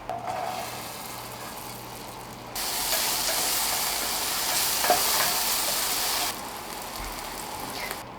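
Butter melting in a hot pan, a steady broadband sizzle that jumps louder a few seconds in, holds close and bright with a small tap near the middle, then drops back to a quieter hiss near the end, with no voices.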